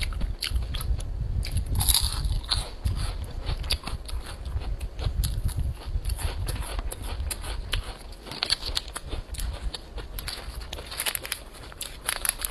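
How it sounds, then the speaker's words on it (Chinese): Close-up crunching bites and steady chewing of a crispy seaweed-wrapped snack stick with an egg-yolk-flavored filling, continuous and loud throughout with no talk. "应该是一种脆脆的，然后在中间是个夹心儿"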